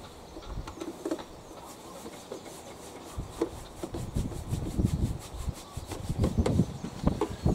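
Two crosshead screws being worked out of an HYM530SPE lawnmower drive system, with close scraping and rubbing of the screwdriver and small clicks and knocks, growing busier toward the end, no talking.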